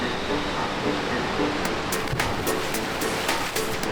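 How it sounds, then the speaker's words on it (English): Steady wash of churning water in an indoor water park wave pool, a dense continuous roar with faint sharp splashes and clicks scattered through it. "we're moving over to the wave pool now"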